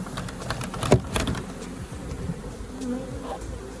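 Honey bees buzzing around a hive box after a swarm was captured, a close, steady insect drone with individual bees zipping loudly past, alone without talk.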